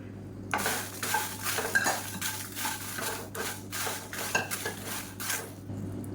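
Dried red chillies, round and long varieties, dry roasted in a kadai for kuzhambu and sambar powder, with repeated metal spatula scrapes and clinks against the pan in a steady rhythm, close and alone.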